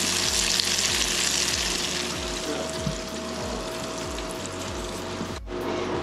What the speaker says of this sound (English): Try to fry the same size, you know, at the same time